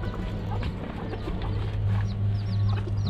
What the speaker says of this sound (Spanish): Aquí está este otro gallo que es de raza